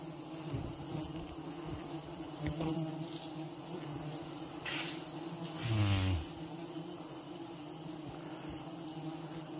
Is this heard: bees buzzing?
yes